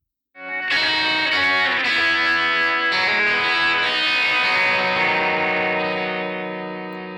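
A P821 MDN tape emulation plugin processes a sustained, richly harmonic instrumental passage heard first through the effect and then bypassed; loud, continuous and reverberant, with a bright attack that slowly decays.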